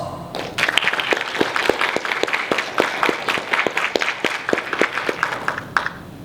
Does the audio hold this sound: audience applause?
yes